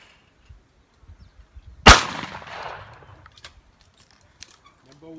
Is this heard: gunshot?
yes